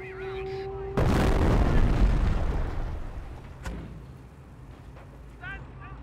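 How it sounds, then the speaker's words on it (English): Artillery barrage explosion in Company of Heroes, a sudden loud broadband boom followed by a long rumbling decay, with a sharper crack a few seconds later and faint game voices and tones around it. "Continue to barrage the enemy squad until they are defeated."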